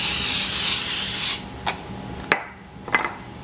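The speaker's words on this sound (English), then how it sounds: "I'm going to spray the tops of them with a little bit more olive oil spray" A long steady hiss from an olive oil cooking spray can over Brussels sprouts, followed by three short, sharp spritzes with brief pauses between them.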